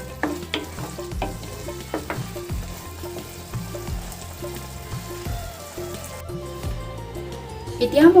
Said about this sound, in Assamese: এতিয়া মই বইল কৰি লোৱা বাঁহগাজখিনি ফ্ৰাই কৰিবলৈ লৈছোঁ